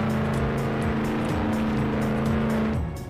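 A powerful car engine in a video game revs hard and continuously, its pitch climbing and dipping through gear changes, loud and close, fading slightly at the very end.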